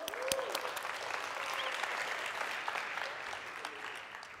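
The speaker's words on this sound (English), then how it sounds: "Give yourself a round of applause" An audience at a door-to-door sales conference claps together in sustained, dense applause that fills the room steadily throughout.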